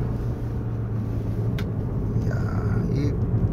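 BMW 320d G20 diesel sedan accelerating, with a steady low engine and road rumble heard from inside the cabin and a faint rising whine midway, no voices over it.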